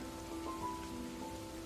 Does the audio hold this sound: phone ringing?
no